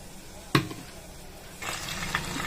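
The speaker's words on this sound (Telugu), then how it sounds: "స్టవ్ మీద ప్యాన్ పెట్టుకొని కొద్దిగా ఆయిల్ వేసి ప్యాన్ వేడైన తర్వాత 2 to 3 టేబుల్ స్పూన్స్ ఆయిల్ వేసి" Oil heating in a pan on a stove: a single sharp clank near the start, then a soft, steady sizzle that swells and keeps hissing to the end.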